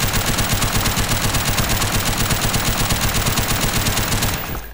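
Rapid continuous automatic gunfire from a gun in the video game Unturned, a loud, steady stream of shots for several seconds that fades near the end.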